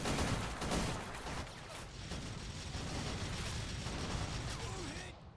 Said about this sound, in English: look at the rate of fire on those guns